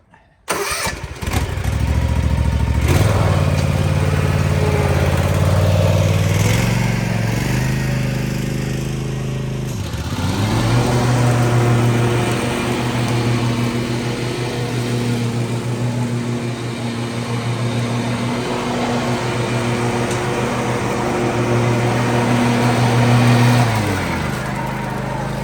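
Cub Cadet 126 riding lawn mower starts up and runs steadily as it drives around a yard, a loud close engine drone that dips briefly midway and then holds a constant tone.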